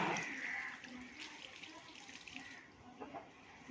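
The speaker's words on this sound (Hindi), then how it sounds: "पानी ये पूरे पौधों को लगा दिया जाएगा।" Water pours steadily onto plants in a continuous splashing rush, strongest at first and easing slightly later, with faint background sounds.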